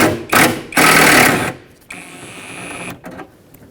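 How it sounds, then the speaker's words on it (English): Bursts of ratcheting and buzzing from a 10mm socket tool working a window regulator mounting nut inside the front door of a 2011-2016 Ford F-350 Super Duty, loud and close, followed by quieter mechanical whirring. "10mm socket, remove it."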